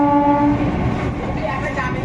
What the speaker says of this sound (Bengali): সামনে থেকে দেখতে পাচ্ছেন লোকাল ট্রেন যাচ্ছে